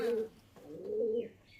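Pigeons in a loft of fancy breeds such as Rampuri and Kaldum give two close, low coos, separated by a brief pause and heard clearly without any talking.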